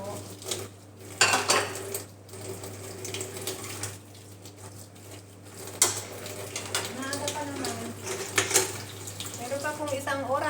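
Dishes, pots and cutlery clatter at a sink while a kitchen tap runs, with bursts of louder clinks and splashes, close and steady, and a voice speaking at times beneath the washing.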